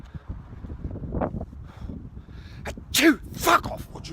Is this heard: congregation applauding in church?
no